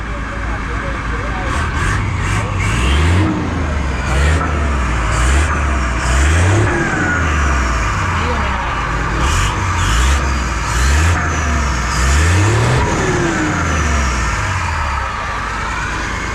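A heavy Hino J08E diesel truck engine revs repeatedly in bursts, rising and falling in pitch, loud and close, with a person talking over it.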